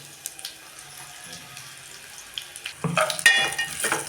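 Asafoetida hits hot oil in a pan for green chilli rasam, giving a soft sizzle that swells into a brighter, louder crackling fry in the last second or so; no talking.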